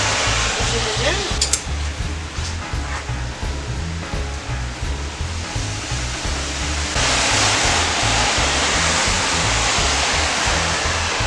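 A brake lathe cuts a brake rotor, giving a steady loud broadband hiss and whir with a low rhythmic pulsing underneath. The noise grows brighter partway through.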